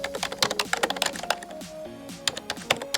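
Rapid clicking keystrokes on a computer keyboard come in quick bursts with short pauses, close and fairly crisp, with no voices.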